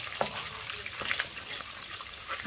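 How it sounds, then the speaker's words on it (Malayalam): Crushed ginger and garlic sauté in butter with fried onions, a soft continuous sizzle with a few sharp clicks of a utensil against the pan. The frying stays fairly quiet and no one talks. "ആദ്യം ഞാനിടാൻ പോകുന്നത് നമ്മുടെ ഇഞ്ചിയും വെളുത്തുള്ളിയും കൂടെ ചതച്ച് വെച്ചിരിക്കുന്നതാണ്."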